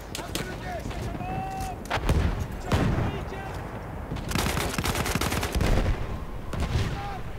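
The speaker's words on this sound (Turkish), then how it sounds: "Her yerde bombalar patlıyor ya." Bombs explode and gunfire rattles on a Battlefield 1 battlefield: dense bursts of shots and booming blasts overlap continuously, loud and close, with distant whistles mixed in.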